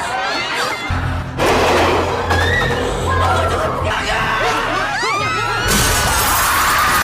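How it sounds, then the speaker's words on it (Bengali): Glass panel breaking under the press of a crowd at a train station in a zombie survival thriller film, a sharp shatter amid loud crowd noise, shouting and scattered cries, with the dense commotion continuing throughout. "সামনে থাকা মানুষদের চাপে কাঁচও ভেঙে যায়"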